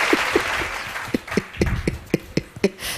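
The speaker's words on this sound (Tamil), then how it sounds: "கைதட்டு" Audience in a Tamil church service claps along in a steady rhythmic beat, sharp hand claps at roughly regular intervals over a noisy hall background.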